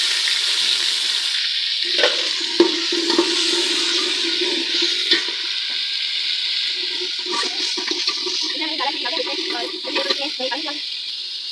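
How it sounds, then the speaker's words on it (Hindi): Masala goes into salan cooking in a pan, setting off a loud, steady sizzle with intermittent scraping and stirring clatter, while a voice talks faintly in the background. "ये पहले मैं मसाला इसमें डालूंगी।"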